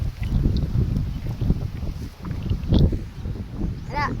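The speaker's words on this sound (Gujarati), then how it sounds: "અહીંથી પવન હાલે છે ફૂલ" Gusty wind buffets the microphone in low rumbling bursts outdoors, with a person talking intermittently over it.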